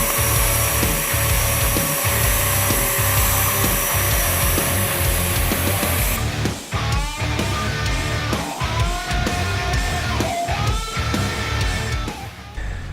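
A Fein RS 12-70E belt pipe polisher grinds against a metal tube, loud and continuous with a shifting pitch as the abrasive belt works along the surface.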